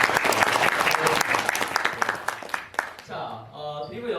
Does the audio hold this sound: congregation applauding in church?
yes